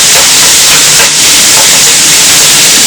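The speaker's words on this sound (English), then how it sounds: "Now gradually I'm adding in my rice to the oil." Rice poured gradually into hot oil in a pot for egg fried rice gives a loud, dense, continuous sizzle and hiss, close and steady for a few seconds.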